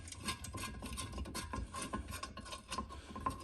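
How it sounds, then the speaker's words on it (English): A socket wrench ratchets in quick, close clicking runs while loosening the muffler bolts on a Husqvarna 2101xp chainsaw being torn down for porting, with a steady mechanical rasp and no talking. "I have the right socket here. Get this muffler tore off of here."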